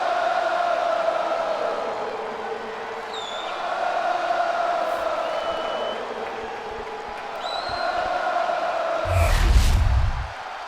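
Crowd noise from a wrestling arena in the video game WWE 2K25 swells and fades as a continuous roar of cheering, with a louder, bassy burst near the end and no clear speech over it.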